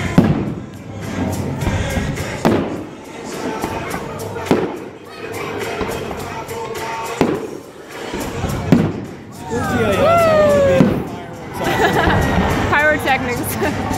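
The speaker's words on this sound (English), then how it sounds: "Pyrotechnics." Fireworks at a summer company party show on a June evening: repeated loud booms and crackling bursts, some with whistling rising tails, over a chattering crowd with people talking nearby.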